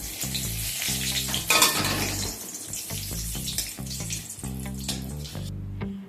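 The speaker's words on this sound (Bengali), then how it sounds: "এবার এই তেলের মধ্যে একটা ছোট এলাচ, একটা ছোট দারচিনি স্টিক, সেই সাথে একটা তেজপাতাকে মাঝখান থেকে ফাটিয়ে অ্যাড করে দিলাম" Cardamom, a cinnamon stick and a split bay leaf sizzle steadily in hot mustard oil, a constant close frying hiss over low bubbling and crackle, with no talking.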